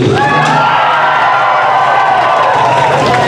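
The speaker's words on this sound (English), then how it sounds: "if you think Sharky's Angels were the best, cheer now" A school audience at the Enniscorthy Community College TY variety show cheers loudly for Sharky's Angels, a dense, sustained roar of shouting and screaming voices close by.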